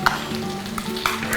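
Green peppercorn masala sautéing in coconut oil, a steady low sizzle with intermittent stirring scrapes and a few sharper clinks of the spoon against the pan, close up and continuous.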